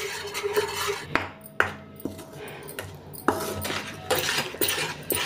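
A spoon stirs a thick ginger and sugar mixture in a pan with the heat off, making repeated metallic scrapes and clinks against the pan at close range, with no talking.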